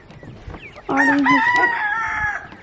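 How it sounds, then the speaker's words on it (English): A rooster crows loudly and close, one long drawn-out call after some quiet background clucking. "Roosters are crowing"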